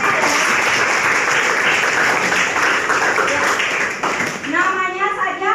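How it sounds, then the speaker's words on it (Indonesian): Students clap for classmates in a school lesson on volcanism, a full sustained burst of crowded applause that tapers off as a voice begins to speak over the last moments. "Tepuk tangan buat teman-teman ya"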